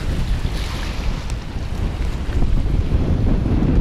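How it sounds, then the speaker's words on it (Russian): Strong sea wind buffets the microphone in a loud, continuous roar, and big waves surge and crash beneath it. "Прибыли мы на море, и опять ветер такой, что сбивает с ног."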